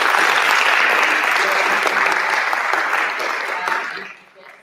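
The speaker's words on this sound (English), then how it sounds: "Could I please just get another round of applause for my" Live audience applauding performers on stage, a loud, dense round of clapping that holds steady before thinning out and fading away in the last second.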